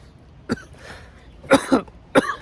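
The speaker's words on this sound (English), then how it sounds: "Now you might be wondering why I'm coughing so much" Several harsh coughs come in short bursts, a single one, then a double, then another single, close and loud against a quiet background.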